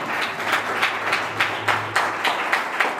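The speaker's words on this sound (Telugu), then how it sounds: "గట్టి చప్పట్లు ఒకసారి." A crowd applauds at a Telugu writers' book launch event, with steady clapping throughout and regular louder accents, fairly close and filling the room.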